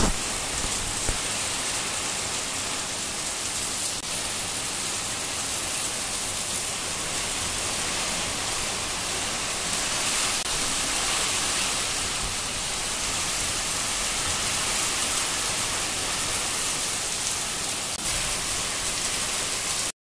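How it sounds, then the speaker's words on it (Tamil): Heavy rain pours steadily on a garden plot set aside for turmeric planting, a dense continuous hiss with no break and no voices. "இங்கே பார்த்திங்கன்னா தொடர்ந்து மழை பெஞ்சிக்கிட்டு"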